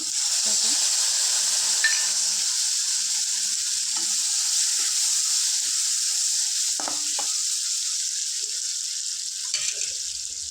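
Lemon juice hits leftover rice frying in a pan for lemon rice, giving a loud, steady sizzling hiss with occasional stirring scrapes and a brief voice in the background.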